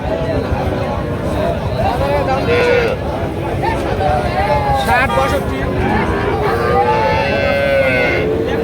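Several cattle, including Sahiwal bulls, moo repeatedly at a cattle market amid a busy crowd, their long calls rising over constant chatter and babble of many people.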